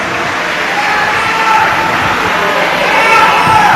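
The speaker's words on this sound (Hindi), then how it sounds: "एक बार इनके लिए जोरदार ताली बजाओ।" A large crowd at a Shiv Mahapuran katha gathering applauds loudly for the Malegaon team, a dense, sustained roar of clapping and cheering that swells slightly toward the end.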